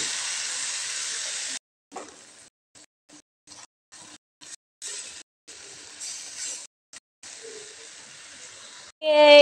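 Yellow velvetleaf (genjer) stir-fried in a pan gives a loud, steady sizzling hiss that keeps breaking off into short gaps, then returns, with a brief louder clatter at the very end.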